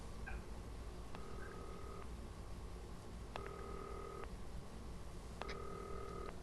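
A vintage-style telephone rings in the broadcast-control game Not For Broadcast, sounding as three evenly spaced ring bursts of about a second each over a steady background hum.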